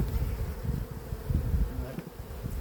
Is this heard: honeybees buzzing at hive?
yes